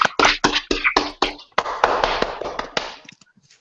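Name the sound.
audience applause for Tommy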